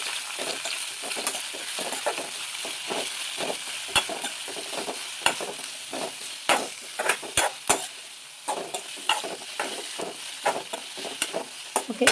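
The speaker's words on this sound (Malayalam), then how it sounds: "ഉപ്പും കൂടെ ഇട്ടിട്ട് നമുക്കിത് വേഗം ഒന്ന് ഇളക്കി കൊടുക്കാം" Sliced onions with salt being stirred in a hot pan, a steady close sizzle cut by frequent sharp scraping and tapping strokes of a spoon, busy and rhythmic with no talk.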